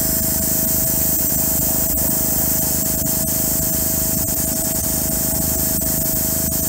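An Amazon airbrush spraying paint, fed by a Harbor Freight air compressor, giving a steady, unbroken hiss at an even level from start to finish with no talking.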